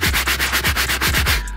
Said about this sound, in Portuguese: esta escova é mesmo feita para isto, não se preocupem em esfregar isto